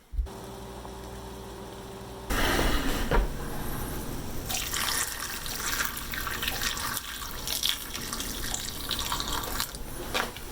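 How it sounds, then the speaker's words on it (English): Water from a tap pours steadily into a bowl of spicy Thai instant ramen with green onions and sriracha, a close, continuous splashing stream that starts after a short hum and keeps running to the end, with no talking. "Now all we need to do is add the water."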